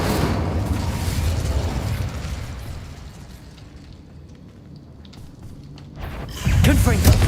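An Incendio fire spell cast in Hogwarts Legacy makes a rushing, roaring fire burst that fades to a quieter hiss and then swells again into a heavy whooshing blast near the end.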